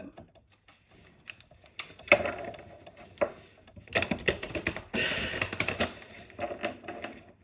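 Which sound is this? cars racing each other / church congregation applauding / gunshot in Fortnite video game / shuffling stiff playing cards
shuffling stiff playing cards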